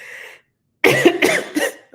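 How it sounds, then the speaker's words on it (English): A person's coughing fit, with a short breathy sound, a pause, then a burst of several loud, close coughs in quick succession. "Oh, no, for real. I really am coughing."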